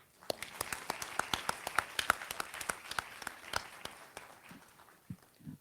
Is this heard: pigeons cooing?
no